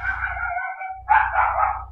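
Dogs bark in short repeated bursts in a Grand Theft Auto San Andreas game scene, fairly loud against a low engine hum.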